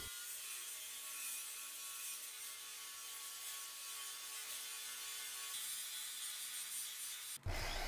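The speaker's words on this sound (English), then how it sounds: "this is my Porter Cable metal bandsaw" A restored Porter Cable metal bandsaw cuts through stock with a continuous, even, high rasping whine that holds steady for several seconds before an abrupt change at the end; no voices.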